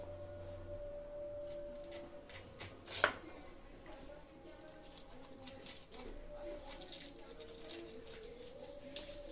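A knife slices once through a large green chilli, splitting it down the middle for mirchi bajji. The cut is a single crisp, close snap over a quiet room hum, followed by faint handling sounds.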